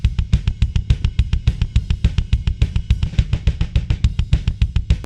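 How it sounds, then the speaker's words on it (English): Double kick drums from a recording hammer out a rapid, even stream of tight thuds, loud and close, with no other instruments. "Now let's add kick mic number 2."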